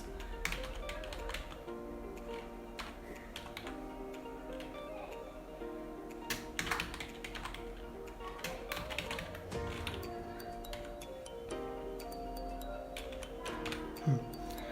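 Computer keyboard keys tapped while entering a home address into a CV form, quick irregular clicks over a steady low background hum, with no voices.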